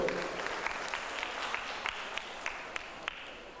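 Applause from an audience at the opening ceremony of a charity health-check event, a soft, distant patter of clapping with a few sharper claps standing out.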